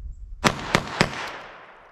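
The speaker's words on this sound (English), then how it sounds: "So let's try our 38 short Colt." A .38 Short Colt revolver fires: three sharp, loud gunshots about a quarter second apart, followed by a fainter fourth crack, each ringing out with a short decaying tail.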